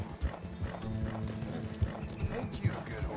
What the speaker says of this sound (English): They're not gonna catch this horse. This horse too fast.